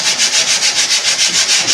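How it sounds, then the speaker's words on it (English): Rough-grit sandpaper scrubs dark varnish off vintage wood in a fast, steady back-and-forth rhythm, loud and close with no talk. "I can just get in with my rougher grit and just sand that back."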